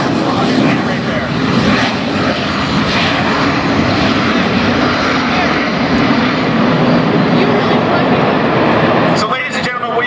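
A jet aircraft at an air show roars loudly and continuously through an accelerating transition takeoff, with a dense, powerful blast. An announcer talks over it.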